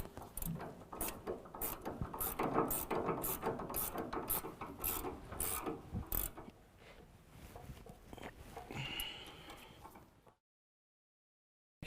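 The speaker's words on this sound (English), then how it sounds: "We can use an 18mm to tighten up our sway bar end link to our sway bar." An 18mm ratchet tightens the sway bar end link nut on a 2017 Ford Raptor during a leveling kit install, giving rapid repeated metallic clicks in bursts up close, then slower rubbing mechanical sounds before the clip falls silent.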